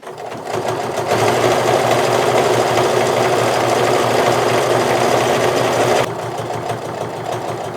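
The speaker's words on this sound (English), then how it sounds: "So I'm sewing all the way to the edge." A sewing machine stitches a zipper seam on a sweater being made into a throw pillow, running loud and steady for about five seconds before dropping to a softer hum.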